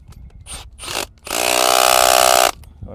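A connector is cranked down inside an electrical handhole with a power tool. A few short mechanical bursts come first, then one loud, steady whirring run of about a second and a quarter that stops abruptly.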